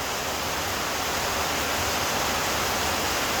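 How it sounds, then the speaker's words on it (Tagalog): Heavy rain pours down steadily in a rural province, a dense, constant roar of falling water close by with no breaks and no voices. "Ang lakas ng ulan na to."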